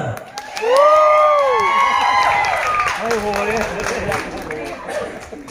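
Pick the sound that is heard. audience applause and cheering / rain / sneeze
audience applause and cheering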